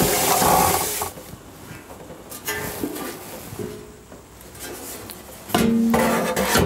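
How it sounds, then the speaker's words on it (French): Water running and splashing while a deep fryer's basin is rinsed out, a steady broadband wash with rubbing and scraping, a louder gush of filling water near the end. "Alors déjà la friteuse a une autre tête, on va la rincer."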